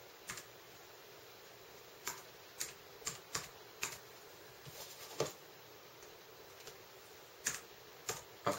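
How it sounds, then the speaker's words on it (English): Typing a command on a computer keyboard in a terminal window: sparse, separate key clicks spaced irregularly over several seconds, close and clear against a quiet background with no voices. "You have to type SSH space root."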